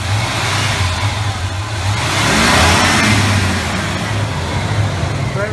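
A 1978 Chevy Cheyenne K20 truck with 94,000 original miles revs up from idle, its engine swelling to a louder rumble midway and then settling back to a steady hum, recorded nearby.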